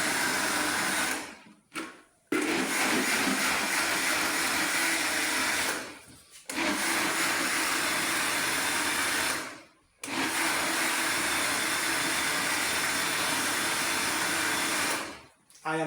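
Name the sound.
blender grinding ingredients for a drink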